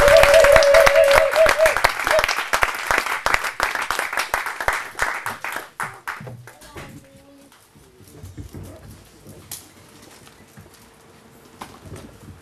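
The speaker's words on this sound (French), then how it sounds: "Est-ce que nous pouvons l'accueillir avec des acclamations" Applause with scattered cheering from a church congregation welcoming a guest preacher, loud and dense at first, then thinning and fading into quieter room noise after about six seconds.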